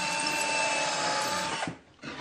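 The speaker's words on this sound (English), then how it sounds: "I'm drilling the hole from both sides to avoid tear out on the back" A power drill whirs steadily at close range while boring a hole through wood, then spins down and stops briefly before starting up again.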